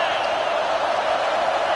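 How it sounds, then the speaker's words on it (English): A home crowd at a Miami at Penn State college football game roars steadily on a fourth down, a broad distant wash of cheering and noise with no break. "Home crowd trying to make a difference on fourth down."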